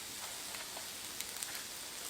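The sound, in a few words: butter sizzling with shrimp on a Blackstone griddle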